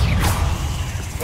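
A Confringo fire spell cast in the Hogwarts Legacy video game, a quick close whoosh with a thumping impact and a crackling low rumble.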